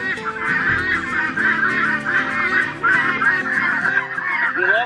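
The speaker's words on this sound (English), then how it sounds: "You love the soothing sound of the guineas?" Guinea fowl give harsh, rapid honking calls, several birds overlapping in a loud continuous chorus close by, with no pauses.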